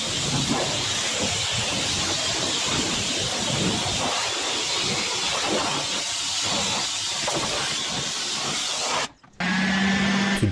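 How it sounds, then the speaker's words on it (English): An air blower dries the wheels of a Rolls-Royce, giving a steady, loud broadband rush of air that runs almost unbroken, cuts out briefly near the end, then resumes with a low hum. "To dry the wheels, I use an air blower."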